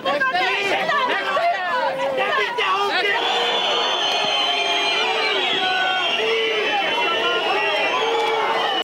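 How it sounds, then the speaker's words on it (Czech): Loud, dense crowd of demonstrators in a Prague street during an August 1989 protest: constant chatter and shouting with scattered whoops and cheers, many voices overlapping close by throughout. "Dav ve městě i přesto neutichal"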